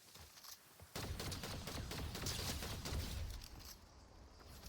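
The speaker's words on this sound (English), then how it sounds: "Who's shooting at me?" Gunfire in the video game Fortnite, a dense burst of rapid shots starting about a second in and continuing loud and close, with no talk over it.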